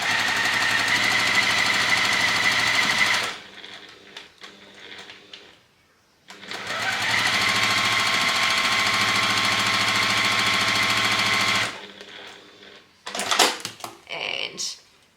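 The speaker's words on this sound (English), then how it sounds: "we're going to sew that one from" A sewing machine stitches a quilt block in two long, loud runs of steady motor whirring and needle clatter, separated by quieter handling noises and a brief pause, with further fabric rustling at the end.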